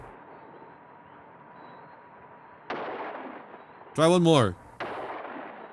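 Two sharp gunshots ring out in an old monster movie, each followed by a reverberant tail, with a voice speaking briefly between them over a low background hiss.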